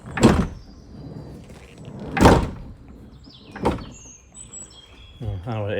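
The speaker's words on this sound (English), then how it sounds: "So to open the side door," A vehicle side door is worked open in several separate loud mechanical clunks and slides spaced a second or two apart, close by, followed by a brief voice at the end.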